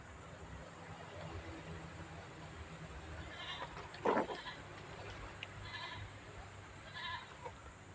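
A goat in a rural provincial setting bleats a few times, faint and somewhat distant, over a steady low background of outdoor noise.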